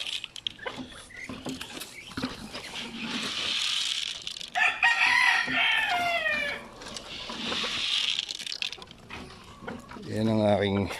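A backyard flock of laying hens and ducks, with a rooster crowing twice in long harmonic calls and scattered clucks between them, while a person talks nearby.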